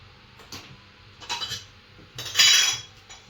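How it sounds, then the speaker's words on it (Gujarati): A metal kadai (wok) is set down on a gas stove in a home kitchen. Three quick metallic knocks and clinks sound up close, the last one loudest, with near silence between them. "આપણે કઢાઈ મૂકીશું"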